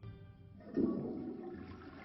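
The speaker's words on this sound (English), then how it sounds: "since when do outhouses flush?" An outhouse toilet in a Shrek stage musical flushes once, a short gurgling rush of water that swells and then trails off, fairly faint.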